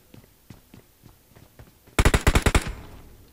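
Gunfire in the PUBG Mobile video game, a rapid automatic burst of about eight loud close shots following a few quiet footstep-like taps.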